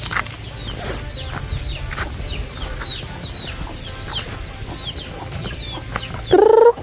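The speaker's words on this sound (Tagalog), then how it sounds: "May manok kayo dito, marami magsisiw." Chickens clucking around a rural Philippine farmyard with many chicks, steady bird chirps and calls over a constant high insect drone, ending in a louder, closer call.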